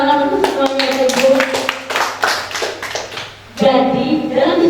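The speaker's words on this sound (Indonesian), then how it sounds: "Boleh tepuk tangan untuk semuanya Ibu." A group of teachers claps in a school session at an elementary school, sharp hand claps coming in uneven bursts, with faint talk among them.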